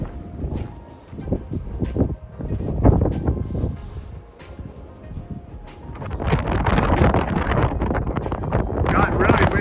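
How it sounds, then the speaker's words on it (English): Strong gusting wind on an exposed desert ridge along the Pacific Crest Trail buffets the microphone in surging, roaring bursts that build steadily louder, with someone speaking briefly under the noise. "It's got really windy up here"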